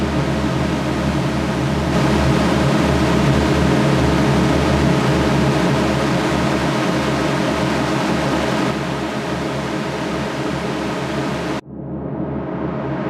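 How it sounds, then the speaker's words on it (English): A detuned synthesizer drone pad holds a thick, buzzing, sustained tone like swarming bees, steady and loud for most of its length, then cuts off abruptly near the end. "It's supposed to be a drone."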